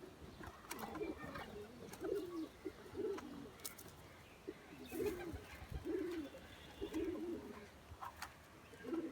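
Soft pigeon coos repeat in short bursts at a steady pace inside a pigeon loft, with faint chirps and light rustling in the background.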